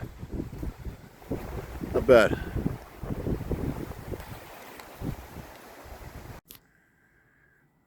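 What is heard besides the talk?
wind blowing on a hill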